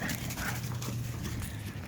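Playing dogs pant heavily and scuffle nearby, with brief whimpers and the patter of paws over a steady, noisy outdoor background; no one speaks.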